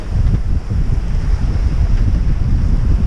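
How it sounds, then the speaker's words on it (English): Strong wind of about 23 to 25 knots roars across the microphone on a small sailboat running downwind off Iceland's Westman Islands, with rough sea and waves washing beneath, loud and constant. "23, 25 knots of wind, but I'm running downwind."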